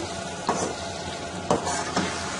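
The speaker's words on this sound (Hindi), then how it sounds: "अब हम इसको 2 से 3 मिनट तक इसी तरह मीडियम आंच पे इसको हम भूनेंगे" Chicken korma fries on medium heat with a continuous close sizzle, punctuated by a few distinct scraping stirs of a spoon through the pan.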